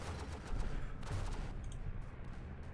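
A bombing run in the World War tower defense game Northend brings a fairly faint flurry of rapid blasts and gunfire-like cracks against a rumbling background of battle noise.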